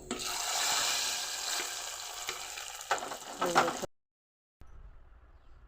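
Spices crackle and sizzle in hot oil, loud and close with bursts of popping, then the sound cuts off abruptly.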